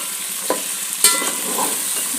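Potatoes, cauliflower, carrots, beans and peas stirred in a hot pan, with a steady faint sizzle broken by a few soft scraping strokes of the spoon.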